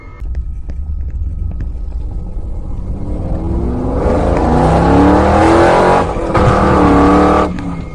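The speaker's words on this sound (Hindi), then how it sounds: "रॉड बाइक को काफी तेज भगाता है" A cartoon motorbike speeds away with a loud, close engine whose pitch climbs steadily as it accelerates, then holds a high, straining whine.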